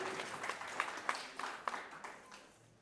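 Scattered, faint clapping from a small group at a primary school speech contest, uneven and thin, tapering off toward the end.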